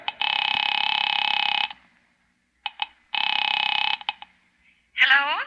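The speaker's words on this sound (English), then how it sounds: "Picking it up quietly, I dialed my daughter's number, Alec Bartlett's wife." Radio drama telephone sound effect: two long buzzing electronic tones separated by short clicks, as if a number is being dialed, then a brief warbling, voice-like tone at the end.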